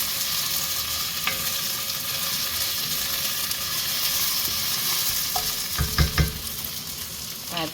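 Onion, garlic and cumin browning in hot oil keep up a continuous even sizzle, with a few louder stirring clatters near the end and no speech.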